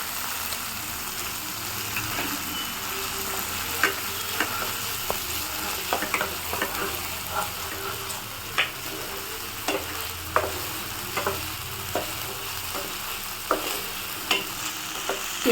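Onion fries with ginger garlic paste in a pan for white chicken korma, a soft steady sizzle under repeated light clicks and scrapes of stirring, close and fairly quiet with no talk.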